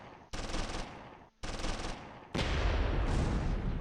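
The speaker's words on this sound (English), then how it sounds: "See if those mortars will help." Bursts of mortar and machine gun fire in the war strategy game Close Combat III, three loud dense volleys in quick succession, the last one sustained and heavier, with no talk.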